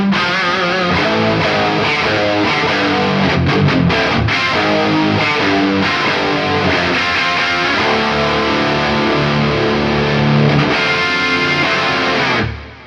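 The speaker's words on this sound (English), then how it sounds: "That's the gain at about 2 o'clock." Heavily overdriven electric guitar through an Origin Effects Revival Drive Hot Rod pedal with gain near two o'clock, a loud, continuous riff of chugging chords and sustained notes played alone, ending abruptly after about twelve seconds.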